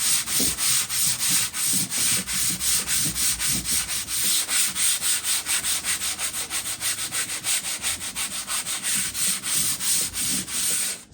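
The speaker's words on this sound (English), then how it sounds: "I'm going to give it a go just sanding that back." A part for a model railway layout is sanded flat on a glass block, with steady, rhythmic back-and-forth rasping strokes, close and even, and no voices.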